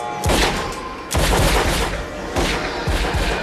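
Gunfire rings out in a movie scene of an alien shooting test, with loud overlapping shots and booming bursts arriving in several heavy volleys, dense and close, with no talk.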